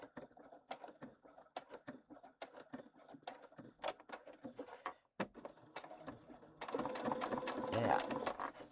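Sewing machine stitching a tote bag seam in short rapid bursts of mechanical clatter, stopping briefly before running into a denser, louder continuous backstitch near the end, fairly close and quiet, with no talking.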